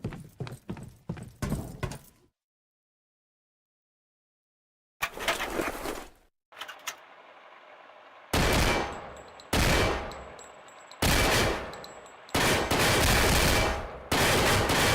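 Gunfire at targets on a shooting range in a police video game, loud repeated bursts of shots separated by short gaps and a couple of seconds of silence, with no talk.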